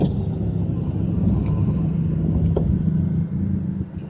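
Vehicle towing a boat drives past on a Pattaya street, a low steady road rumble close by that eases off toward the end.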